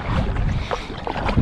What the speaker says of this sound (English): Buddy Roach, he's on that iPilot Old Town, and she's already almost there, just motoring